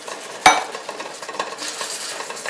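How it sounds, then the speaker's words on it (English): A cottage pie beef mixture in a pan with beef stock, heard as a clank of a utensil followed by stirring scrapes over a soft, continuous bubbling sizzle. "At this stage I like to add about 3/4 of a cup of beef stock. Just get the whole thing simmering up."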